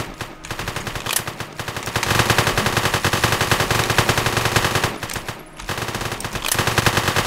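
Dense, rapid automatic gunfire from a video game robbery mission, loud and nearly continuous bursts with a couple of brief pauses between volleys.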